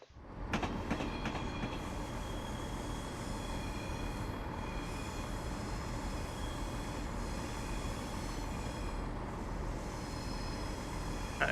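A Class 170 DMU diesel multiple unit runs in the Train Simulator 2016 game, with a steady low engine rumble and rolling wheel noise, continuous and even throughout and with no talking.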